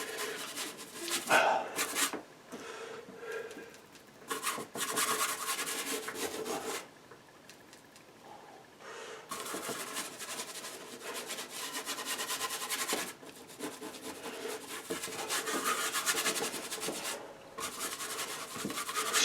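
A brush works oil paint across a gesso-coated 3mm MDF board in broad strokes, producing bursts of close, dry scrubbing and rubbing separated by short pauses.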